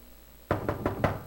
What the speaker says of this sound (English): I think I heard, knocking at the door.